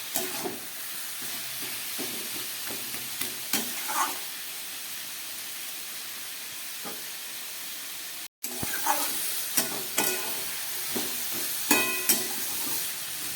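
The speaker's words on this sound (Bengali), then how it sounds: "সব কিছু দিয়ে খুব ভালো করে আমি এখন কষাবো এটাকে" Cabbage, capsicum and onion being sautéed in a pan: a soft continuous sizzle with scraping stirs and occasional clinks, fairly quiet and steady, with a brief dropout partway through.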